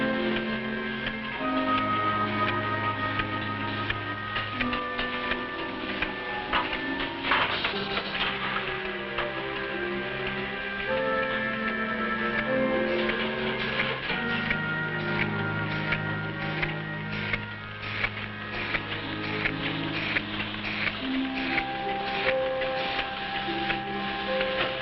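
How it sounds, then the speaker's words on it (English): A 1954 Nutrilite factory capsule encapsulating machine runs steadily, its mechanism producing a continuous rapid ticking and clattering rhythm with humming tones underneath, loud and close throughout with no talking. "This machine places empty capsules into a circular metal disc."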